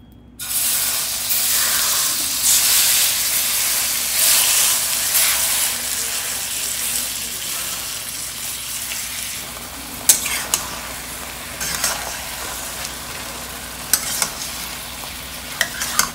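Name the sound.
butter melting in hot wok, then marinated chicken frying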